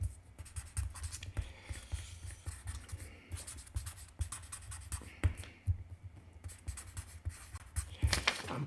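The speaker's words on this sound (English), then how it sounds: "I think I shall write a quick note to Bev." Pen scratching across paper as someone writes a short note by hand, a steady run of quick close strokes and taps over a low room hum, with a louder shuffle near the end.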